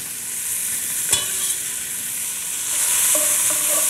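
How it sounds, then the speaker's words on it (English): Onions, thyme, bay leaf, peppercorns, carrots and celery sizzle steadily in olive oil in a braising pot, with one sharp clack of stirring and a few light scrapes over a continuous hiss. "you don't really want to brown the onion as much as make it translucent in the olive oil"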